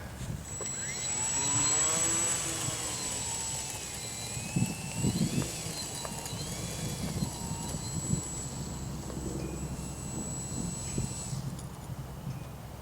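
An SC17 Sport Cub radio-controlled model airplane on its maiden flight holds a thin, steady high motor whine that rises and shifts as it takes off, heard at moderate distance over outdoor background noise.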